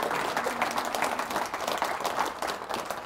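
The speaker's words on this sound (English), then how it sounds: "give them a big round of applause" Attendees at an all-hands meeting give new faculty a big round of applause, steady, close, dense hand clapping from a roomful of people with no talk over it.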